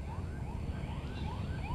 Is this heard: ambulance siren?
yes